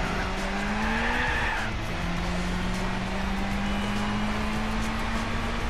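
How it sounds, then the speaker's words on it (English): Tires spin and squeal under nitrous in a Gran Turismo 4 one-make race with Suzuki concept cars, a steady screech over a loud, droning engine note that rises in pitch throughout. "Here we go, spinning the tires with the nitrous."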